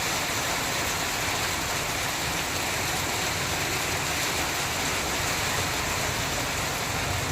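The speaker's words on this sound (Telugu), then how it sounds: "ఫుల్ వర్షం పడుతుంది మా సైడ్ అయితే." Heavy rain pours down in a steady, loud, unbroken rush with no pauses or voices.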